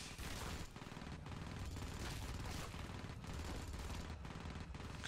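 Sustained rapid gunfire from a marine's weapon in the Aliens vs Predator video game, loud and dense with brief gaps between bursts and no clear talk.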